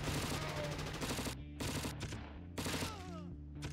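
Sustained automatic machine gun fire in the video game Crisis, rapid bursts with brief gaps between volleys, loud and close, no talking.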